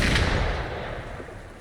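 Gunfire in the video game Wuthering Waves, a heavy booming blast with a rumbling decay that fades over about a second and a half, loud and close with no speech.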